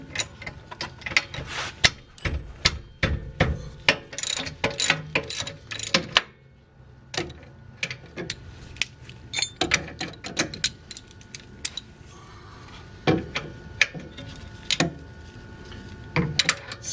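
A wrench loosens a tight bolt on the rear brake of a Mercedes-Benz W202 C280, giving close, irregular metallic clicks and ratcheting clanks with short pauses between bursts.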